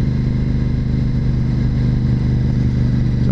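A motorcycle riding along a country road on a sunny fall day, its engine a loud, steady close drone with a constant low rumble throughout.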